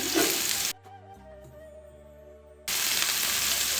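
Chopped garlic and green chilies sizzle in three tablespoons of hot cooking oil in a pan, a loud steady fry that breaks off midway into a quieter tonal stretch before the crackling returns just as strong.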